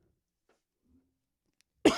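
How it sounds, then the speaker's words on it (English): A single sudden cough, very close to the microphone, bursting out at the end after near silence. "Sorry, coughed right in your ear."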